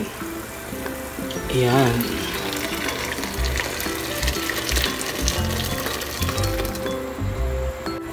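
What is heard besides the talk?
hot water poured into pan for cooking sotanghon noodles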